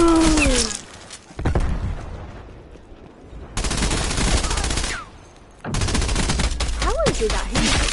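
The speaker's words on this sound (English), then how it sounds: "That was me shooting him as well." Gunfire in the Call of Duty Black Ops Cold War multiplayer video game comes in loud bursts of rapid automatic shots, broken by short quieter gaps.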